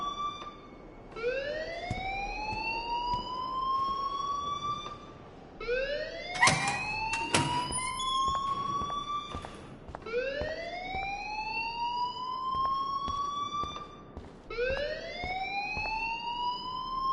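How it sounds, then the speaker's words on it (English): A school fire alarm in the video game Life is Strange wails in repeated rising sweeps, each lasting several seconds, loud and continuous. Sharp clanks and bangs sound partway through. "please turn off that alarm since that's your job"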